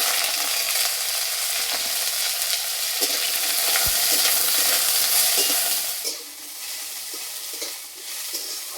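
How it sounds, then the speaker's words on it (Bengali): Cauliflower florets, cut small, washed and drained, fry in a pan with a steady, close sizzle and occasional stirring clatter, the hiss dropping a little in loudness partway through. "কপিটাকে হালকা আছে ভালো করে ভেজে নেব।"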